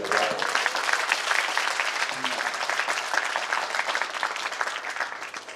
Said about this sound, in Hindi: श्रद्धेय श्री बाल कवि बैरागी जी के लिए जोरदार ताली बजाओ।